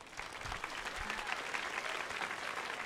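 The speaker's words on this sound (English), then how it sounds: "Let's have a round of applause for our sponsors." Audience applause at a theater performance of a Chinese New Year show by a children's theater and Asian American dance company: dense, steady clapping from a full crowd, sustained throughout at moderate loudness with no talk over it.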